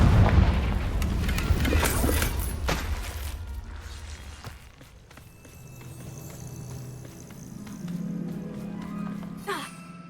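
A Confringo fire spell blasts in Hogwarts Legacy, with booming bursts and sharp impacts up front, then a quieter stretch with a low rumble and a final crackling hit.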